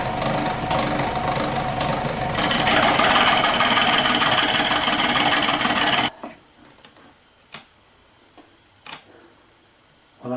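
A wood lathe turns the tenon on a shallow lidded wooden box, a loud, steady rasping cut that grows harsher midway, then stops abruptly into quiet with a few soft knocks and scrapes.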